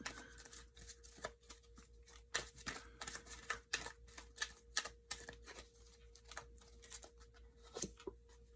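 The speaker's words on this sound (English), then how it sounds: "I'm just going to pull a few more cards" Tarot cards being pulled from a deck give a quiet series of sharp card slaps and flicks in an irregular rhythm, close and soft over a faint steady hum.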